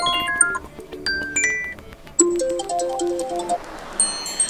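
An iPad Air 2020 timer alarm tone plays as a preview, a bright chiming ringtone melody of quick descending and rising notes. It is close and clear, with no speech.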